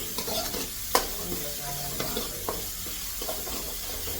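Chopped ginger, garlic, green chilli and curry leaves sizzle in a hot pan, a steady close hiss broken by a few sharp scrapes and clicks of a stirring spoon, with no talk.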